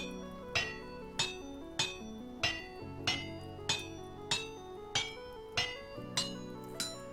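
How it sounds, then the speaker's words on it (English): In the game Vintage Story, a hammer strikes iron on an anvil about eleven times in a steady, evenly spaced rhythm, each blow a bright metallic clink with a ringing tail, heard clearly and alone. "we've got to hit it a few times with the hammer"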